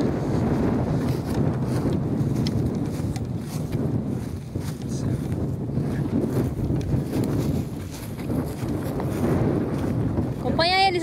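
Strong wind buffets the microphone high on a mountain peak at Pedra Itacolomi, a steady broadband roar that runs throughout, with a brief whistling tone near the end.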